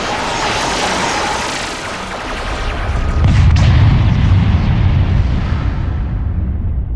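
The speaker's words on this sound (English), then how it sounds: "All of you, open fire! They're all shooting at the TARDIS!" Heavy gunfire in an audio drama blasts at the TARDIS as a continuous roar of shots, swelling midway into a louder, deeper rumbling barrage that slowly fades, with no voices.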